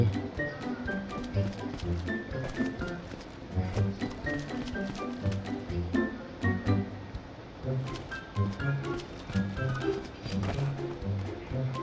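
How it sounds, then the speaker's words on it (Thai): Footsteps in the battle royale game Badlanders, rapid soft repeated steps running steadily throughout, mixed with gear rustle and game ambience at moderate loudness. "เสียงเท้าเรา"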